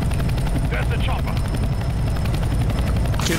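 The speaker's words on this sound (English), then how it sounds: "There's the chopper." Helicopter in the game CS:GO, its rotor thumping steadily and loudly throughout amid gunfire and game sounds, with voices talking over it.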